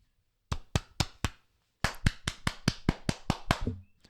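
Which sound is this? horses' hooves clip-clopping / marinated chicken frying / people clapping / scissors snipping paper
people clapping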